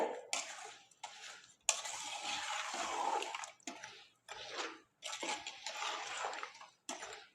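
Mango pieces being stirred in oil for a sweet and spicy homemade jaggery mango pickle, with moist squelching and scraping in bursts separated by short pauses, close and fairly quiet, no talking.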